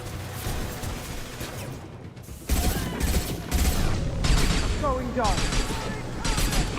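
Heavy gunfire in Mass Effect Legendary Edition rattles in dense sustained bursts with booming impacts and mechanical clatter, while a voice speaks briefly amid the firefight.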